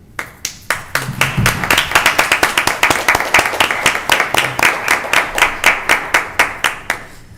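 Applause from the audience at a county board of commissioners meeting, a steady round of hand clapping lasting several seconds with distinct claps audible near the end as it tapers off.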